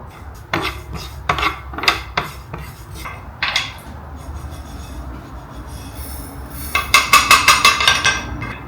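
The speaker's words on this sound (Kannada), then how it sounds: "ಹಂಚು ಕಾದ್ಮೇಲೆ ಅದನ್ನು ಲೋ ಫ್ಲೇಮ್ನಲ್ಲಿ ಇಟ್ಬಿಟ್ಟು ಎಳ್ಳನ್ನ ಒಂದು ಸ್ವಲ್ಪ ಸ್ಪೂನ್ಲಿಂದ ಕೈಯಾಡಿಸ್ತಾ" A spoon stirs sesame seeds in a hot pan over a low flame, giving sharp metallic scrapes and clinks in irregular bursts, which turn into a quick run of taps near the end.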